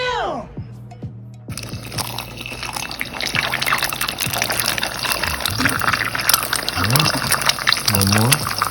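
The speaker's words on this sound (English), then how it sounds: "Alright, I'm gonna put the egg in the pan." Egg dropped into a pan of hot oil for sunny side up frying, a sudden burst of steady crackling sizzle after a brief quiet start, continuing loudly, with a person talking over it.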